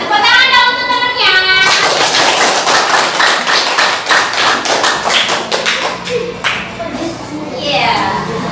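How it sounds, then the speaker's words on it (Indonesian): Schoolchildren clap together for a classmate in a classroom, a dense run of sharp hand claps lasting several seconds, with a few young voices talking over it near the end. "Tepuk tangan dong untuk temennya."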